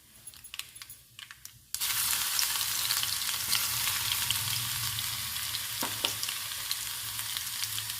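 Crushed garlic hits hot oil in a pan while making drumstick-leaf dal, setting off a sudden loud, sustained sizzle with faint scattered clinks after quieter scraping beforehand.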